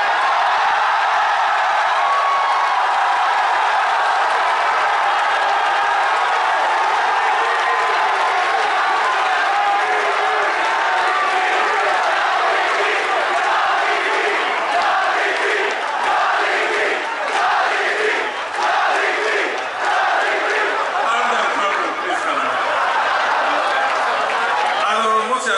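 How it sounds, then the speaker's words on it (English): A large arena crowd at the 2019 Dota 2 major esports event roars with sustained, loud cheering and shouts, swelling and pulsing in waves for the whole stretch with no clear single voices. "The volume of the cheering was just so loud"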